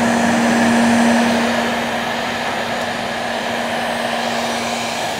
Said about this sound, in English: the heat gun's the best.